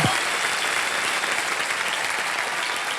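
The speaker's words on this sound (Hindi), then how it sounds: "तालियां बज जाए इनके लिए।" A studio audience on the game show Kaun Banega Crorepati breaks into steady applause for a contestant who has just won prize money, the dense clapping holding at an even, full level from start to finish.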